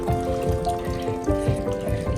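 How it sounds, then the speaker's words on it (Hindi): Water running from a rock source down toward a waterfall, a close, steady gurgling flow with splashing pulses and a faint underlying hum, no voices. "यही वो फाइनल पॉइंट जो जहाँ से पानी पूरा झरना तक जाती है"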